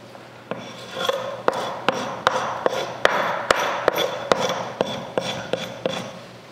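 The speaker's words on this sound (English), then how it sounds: "Scrape it off. It's a whole lot faster than a chemical stripper too." Metal scraper rasping old wallpaper off striped wood trim, a steady rough scratching broken by a quick series of sharp, rhythmic strokes and taps, close up with no talk.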